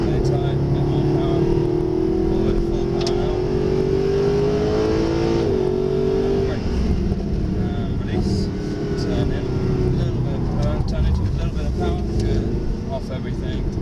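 A Mercedes SLS AMG accelerates hard at full power, its engine note climbing in a sustained loud roar that stays close throughout, with an instructor's voice talking over it.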